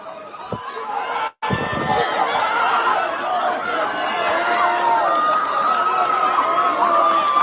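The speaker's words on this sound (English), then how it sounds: "Look at the crowd, they are reacting." Crowd noise at a football match, a dense continuous murmur of many voices with chatter and scattered laughter, broken by one brief dropout near the start.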